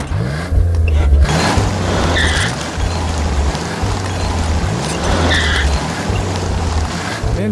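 A car stuck in place with its wheels spinning, the engine revving in repeated loud pulses and tires whining in a steady, close rhythm, with no talk.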